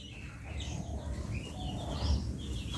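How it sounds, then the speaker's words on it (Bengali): Domestic and Jalali pigeons call in their loft, soft cooing and faint chirps layered over low background rumble, heard close and fairly quietly. "এগুলো হচ্ছে সবগুলোই আমার দেশি কবুতর ও জালালি কবুতর"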